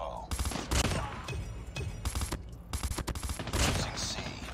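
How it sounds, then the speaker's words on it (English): Rapid bursts of gunfire from an M16 in Call of Duty Mobile crackle loudly and close, with several rattling volleys in a row and no speech over them. "Oh, we're getting shot here."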